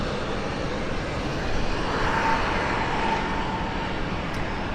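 A heavy Boeing 767 at Cleveland Hopkins gives a steady, broad engine roar that holds evenly throughout at moderate loudness, like a jet passing at some distance.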